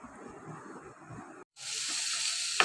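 Carrot, garlic, onion, sausage and green chili hiss and sizzle in a hot pan, a steady frying noise broken by a brief silent gap, then a louder, brighter sizzle.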